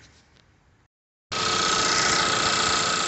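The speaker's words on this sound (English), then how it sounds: "Might be a little hard to hear me over the motor there, but now the motor is sitting perfectly still, no shake at all." A 2017 Kia Soul 2-liter engine idles steadily after a misfire repair, loud and close with an even, unbroken drone following a brief silence.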